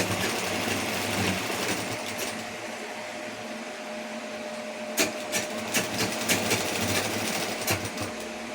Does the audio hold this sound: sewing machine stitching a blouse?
yes